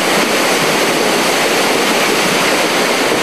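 Floodwater from the Río Blanco and Río Chimbo confluence rushes over a dock in Guayas, a loud, steady, broadband roar of churning water with no break, filling the whole moment without voices.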